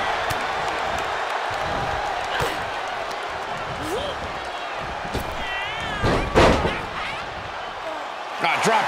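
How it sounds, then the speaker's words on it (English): Slamming impacts from a WWE 2K24 wrestling match between Liv Morgan and Rhea Ripley, with a hair pull into a mat slam; heavy thuds stand out around the middle and end over steady arena crowd noise and commentary. "Hair pull, mat slam. Uncorks another one."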